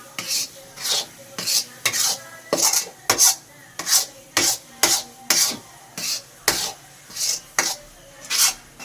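A thick beetroot malt mixture is stirred in a pot, a rhythmic scraping and slurping stroke repeating about twice a second, close and steady, with no talking.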